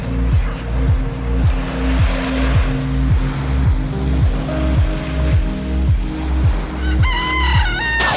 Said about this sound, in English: Wait, that rooster's right next to me!